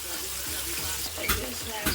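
Flounder and shrimp sizzle and crackle in a hot pan, a soft continuous frying hiss close by with small pops.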